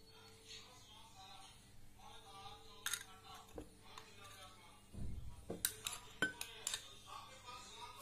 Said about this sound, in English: Now I am going to add 4 tablespoon of flour or maida.